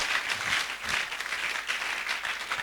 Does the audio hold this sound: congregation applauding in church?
yes